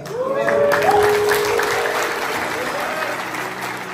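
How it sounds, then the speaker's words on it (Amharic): A church congregation at a deliverance service in South Africa claps loudly together, a dense, sustained round of applause with people cheering and calling out over it. "አጨብጭቡ ለጌታ።"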